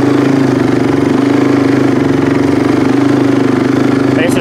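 A small 250 two-wheel-drive engine, hauling logs, idles steadily and loudly up close with an even, fast putter that holds unchanged throughout.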